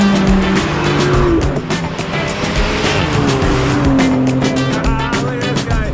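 Race cars roar past on a racetrack, heard from a route running beside it, with loud engine whines rising and falling as they pass, some tire squeal, close and continuous.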